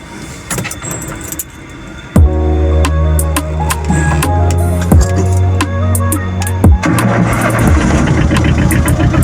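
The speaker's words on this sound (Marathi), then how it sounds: "गाडी एकदम लगेच एका स्टार्टरवर गाडी चालू झालेली" A car engine starting on the first crank after a jangle of keys, then settling into a loud, steady close idle.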